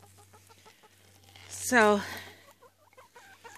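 A hen raised from an auction chick gives a short, loud rising cluck close by, with soft scratching before and after and a person speaking briefly.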